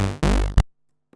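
A Serum synth drum and bass riser patch without oscillator sync plays two short bright buzzy bursts, the second cut off abruptly, followed by near silence and a faint blip.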